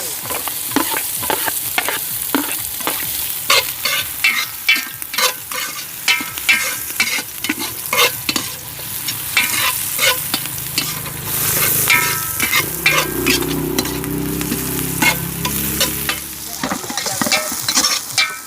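Onions sautéed in a pot for Filipino pork pochero, a loud, continuous sizzle with frequent scraping and clattering of a spoon against the pot, with no talking.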